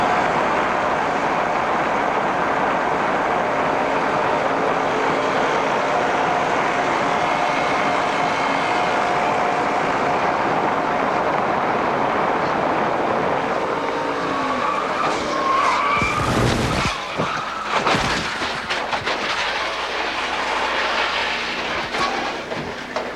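A 1993 NASCAR stock car at Talladega skids and crashes, flipping upside down into the retaining fence, heard as a sustained loud roar of racing engines and tire scrub with sharp, brief impact bursts near the end, no voices.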